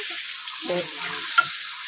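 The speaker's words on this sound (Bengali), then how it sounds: "এখন এটাকে একটু ভেজে নিচ্ছি আমি" Tomato chutney frying and being stirred in a pan, a steady hiss of sizzling with scraping spoon strokes through the middle and one brief clink, close and fairly loud.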